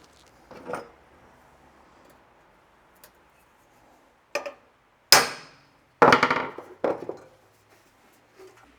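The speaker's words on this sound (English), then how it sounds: "I've got a rounded off chisel. I'm going to hit it right there" A hammer strikes a rounded-off metal chisel on a BMW E30 M3 being built into a ute, with sharp, ringing clanks, irregularly spaced, a few harder blows close together near the end.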